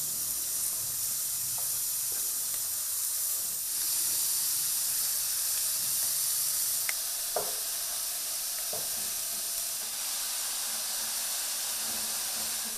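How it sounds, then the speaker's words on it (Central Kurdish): Minced meat kofta balls fry in a pan in a continuous close sizzle and hiss with a few faint clicks and pops, no voices. "ئێستا وردەوردە ئەیانکەمە ناو تاوەکەوە بۆی کەمێک سوور بێت"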